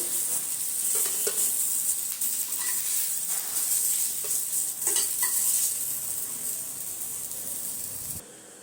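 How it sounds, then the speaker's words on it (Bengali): Eggplant pieces fry lightly in a pan, giving a continuous close sizzle with intermittent stirring scrapes, fading to near quiet at the end. "বেগুনগুলো হালকা করে ভাজা হয়ে গেলে আমি এগুলো তুলে রাখবো।"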